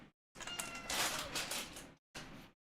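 A pet cat waiting for a treat gives a drawn-out, loud close meow, then a shorter second meow after a brief pause.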